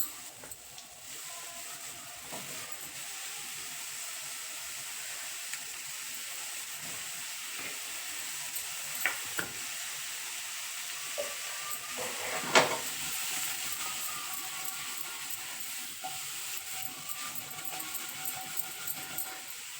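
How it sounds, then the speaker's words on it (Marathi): Chopped mushrooms sauté in a pan with turmeric for a mushroom masala, giving a steady soft hiss and sizzle throughout, with a few sharper clicks and scrapes from stirring and no voices. "व्यवस्थित हे असे परतून घ्यायचे"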